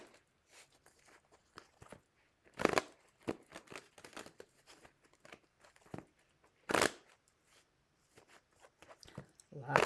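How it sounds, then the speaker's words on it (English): Repeated soft papery riffling and slapping of tarot cards being shuffled, irregular bursts with quiet gaps, close by and fairly faint. "Lots of shuffling."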